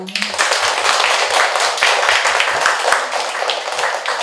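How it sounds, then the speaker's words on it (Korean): Audience applause at a Korean poet's book talk for a first poetry collection: dense, steady clapping from a crowd filling the whole stretch at even loudness, with no voices. "다시 한번 큰 박수 부탁드립니다"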